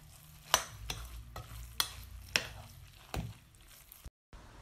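Seasoned chicken filling for nems, with soy sauce and salt, is stirred by hand in a bowl: soft wet squelching with several sharp taps against the bowl, fairly close and quiet.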